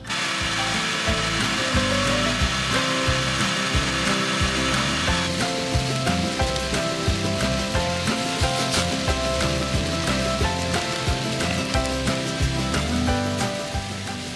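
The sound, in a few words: battery leaf blower stoking an evaporator fire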